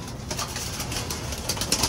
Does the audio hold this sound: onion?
no